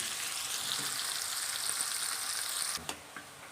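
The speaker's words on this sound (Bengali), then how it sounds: "পেঁয়াজটা একটু লাল লাল করে ভালো করে ভেজে নিতে হবে" Onions fry in hot oil, cooking until they turn reddish, with a steady, dense sizzle throughout, then a few sharp clinks of a utensil against the pan near the end.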